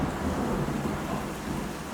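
Heavy rain pours during a derecho windstorm at night, a dense, steady roar of downpour with low thundery rumble underneath, close and constant.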